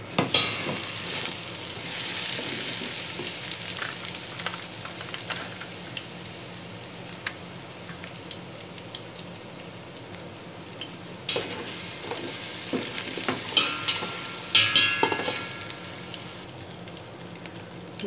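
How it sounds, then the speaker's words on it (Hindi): Garlic and ginger fry in a pan with whole spices such as black pepper, green cardamom and cumin for a mutton pulao, giving a steady, fairly loud sizzle and crackle throughout with occasional stirring scrapes and no talk. "लहसुन और अदरक हमारा फ्राई हो गया।"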